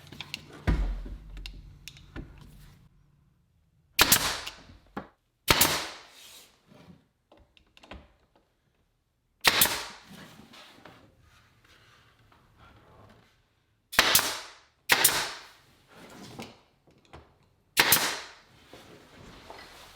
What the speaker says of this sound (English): I nail the casing to the jamb first.